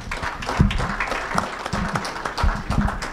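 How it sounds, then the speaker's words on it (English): An audience at a morning community event gives a round of applause to an attorney being welcomed to speak, with lively, uneven clapping and occasional louder bursts, close and clear. "Give him a round of applause."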